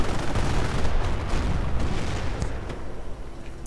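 A Calliope rocket artillery barrage firing in a real-time strategy war game, a dense, continuous roar of overlapping launches and booms that stays loud throughout before easing slightly at the end.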